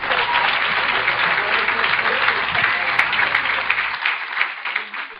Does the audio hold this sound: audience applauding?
yes